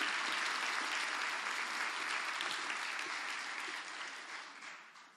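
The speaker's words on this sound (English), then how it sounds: "One more round of applause" An audience at a 2018 high school Hall of Fame induction ceremony gives a full round of applause, dense sustained clapping that gradually thins toward the end.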